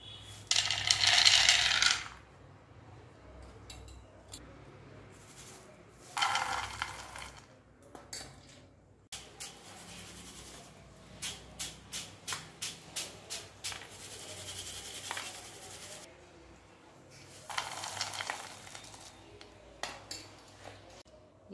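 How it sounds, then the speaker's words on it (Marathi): Roasted salted peanuts are shaken in a sieve to knock off the excess salt, giving several separate bursts of dry, clinking rattles with quiet pauses between the shakes. "थोडे थोडे शेंगदाणे असे टाकून थोडेसे चाळून घ्यायचे आहे, म्हणजे जे मीठ एक्स्ट्राचं आहे ते व्यवस्थित असं निघलं जातं"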